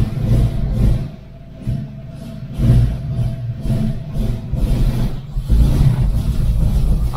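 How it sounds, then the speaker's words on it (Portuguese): A Ford Maverick V8 engine, noticeably vibrating and shaking, rumbles loudly up close with repeated throttle blips rising and falling over a deep, steady idle. "Olha, o motor também treme."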